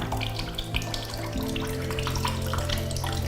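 Plain water flushes through a motorcycle engine's cooling system, a steady rushing gurgle with a low humming tone beneath it, close and continuous, with no talking.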